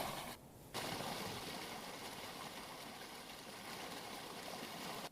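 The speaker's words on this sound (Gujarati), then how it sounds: "ગાબડું પડતા બે મહિનાથી પાણી કોતરમાં વહેતા" Water from a breach in the Panam canal near Shantipura, Desar, Vadodara, pours into a ravine as a steady, continuous rushing wash with only a brief early dip and no voices.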